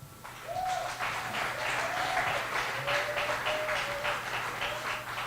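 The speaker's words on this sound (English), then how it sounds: "Let's give another round of applause for all of our baseball seniors and their families." Outdoor applause for baseball seniors and their families at a high school Senior Day game at a ballfield, a sustained round of clapping from a modest crowd with a few whistles.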